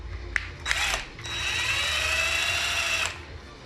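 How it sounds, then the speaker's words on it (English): An impact driver, not a concrete drill type, whirs steadily for a couple of seconds after a few short clicks and bursts, close and loud, then stops. "Yes, it's an impact, but it's not a concrete drill impact."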